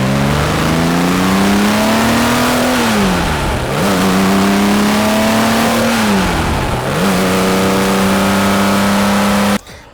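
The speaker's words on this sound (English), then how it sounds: "When you rev, it sounds beautiful from the cockpit." Singer-built Porsche engine with velocity tubes, individual throttle bodies and titanium exhausts, heard from the cockpit rising and falling in loud sustained revs, two distinct throttle blips, then cutting off abruptly.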